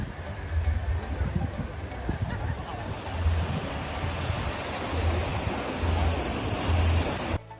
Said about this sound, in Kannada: ಅಲೆಗಳ ಸೌಂಡ್ ಕೇಳಿಸ್ಕೊಳ್ಳಿ.